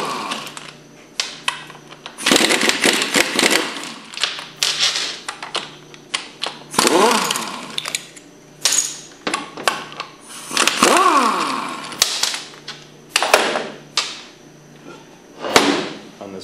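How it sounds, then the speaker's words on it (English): A 9/16 socket wrench works loose the bolts on the front housing of a Hypro centrifugal pump, giving repeated close metallic clicks and clanks in irregular bursts with short pauses, no talking. "We'll start by removing the front housing with a 9/16 socket."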